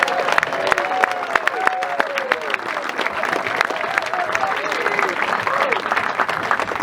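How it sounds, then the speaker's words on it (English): An audience at a golf legends Q&A event applauds a 70th birthday. Brisk, continuous clapping is mixed with scattered voices and cheers. "How about a round of applause for Randall Clark's 70th birthday?"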